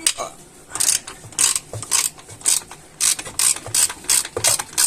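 A ratchet wrench loosening bolts while a BMW E34 engine is being taken apart, with rapid bursts of sharp metallic clicking, close and loud, repeating in quick strokes throughout.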